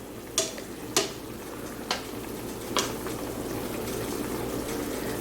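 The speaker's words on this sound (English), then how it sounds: "since it started boiling, as you can see, I'm gonna go ahead and start flipping them over" Meatballs in boiling sauce are stirred and flipped with a utensil, giving four sharp clacks against the pot over a steady bubbling simmer.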